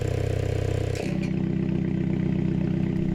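A 2017 Mini Cooper S John Cooper Works with its exhaust ports opened rumbles loudly and continuously nearby. A brief scrape or clatter marks a shift in the engine's tone partway through.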